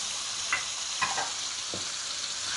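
Tomatoes fry in hot oil with a soft, even sizzle, broken by a few brief clicks and scrapes of a utensil moving through the pan.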